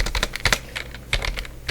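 Quick, close clatter of keys on a computer keyboard as a networking command is entered, with irregular clusters of sharp taps and brief pauses, with no talking.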